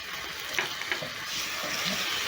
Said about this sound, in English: And then I'm going to add in my soy sauce mixture.